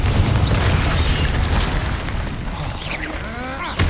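Confringo spell blasts in Hogwarts Legacy make a loud, heavy booming explosion with a rumbling low end that continues for several seconds, with faint whooshing, shimmering magical effects toward the end and no talking.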